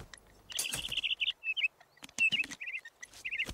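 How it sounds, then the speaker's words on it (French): Little blue cartoon bird sings bright, quick chirping phrases in short bursts with pauses, close and clear over quiet background noise. "J'ignorais que tu étais un oiseau chanteur."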